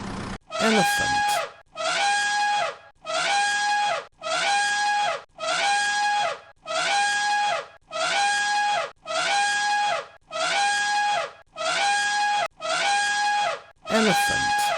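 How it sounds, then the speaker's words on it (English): An elephant trumpets in a steady series of about a dozen loud, shrill blasts, each lasting roughly a second, separated by short pauses and sounding close. "Elephant."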